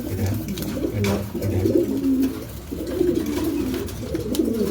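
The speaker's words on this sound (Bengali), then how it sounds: "ভাই তারপর আছে এক জোড়া কেরিয়ার হোমা" A pair of carrier homer pigeons coo in soft, repeated rolling phrases close by, with faint background noise and no talk over them.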